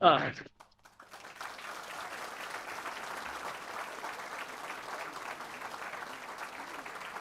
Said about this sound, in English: We can all give a round of applause.